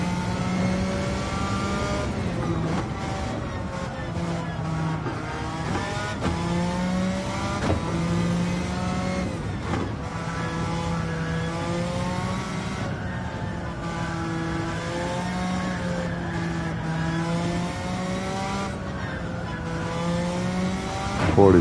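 Suzuki Scudo race car engine in Gran Turismo 7 on a desert circuit, loud sustained engine note rising and falling through repeated gear changes and revs, heard from the cockpit for over twenty seconds without talk.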